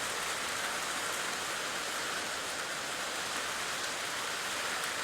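Steady rain falls in West Virginia, a dense, even hiss of drops on surfaces that holds at a constant, moderate level with no breaks and no voices.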